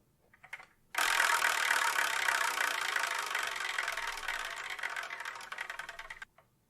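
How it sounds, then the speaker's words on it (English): A prize wheel called the Wheel of Manga spins with a steady, fast ratcheting clatter that starts abruptly, holds loud for about five seconds, then cuts off. "So let's spin and see what we're going to review,"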